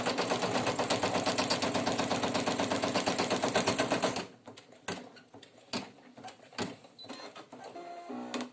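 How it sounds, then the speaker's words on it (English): A Brother F440E/PE800 embroidery machine stitches a tack-down placement outline for a teddy bear's muzzle on minky fabric: a loud, steady, rapid needle rattle for about four seconds, then it stops and sparse clicks and handling noises follow. "next is the tack down stitch, or placement stitch should I say, for the nose"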